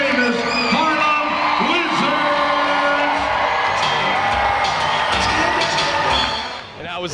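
A crowd at a Harlem Wizards basketball show in Marblehead, Massachusetts cheers, whoops and yells loudly and steadily, with children shouting in the mix, before the roar fades briefly near the end.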